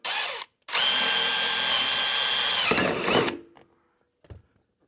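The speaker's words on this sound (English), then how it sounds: "take my 5/16 and drill, baby, drill" A loud power drill with a 5/16 bit drills a hole in a Polaris RZR fender, whirring for a short burst, stopping, then running a few seconds before winding down, followed by faint clicks.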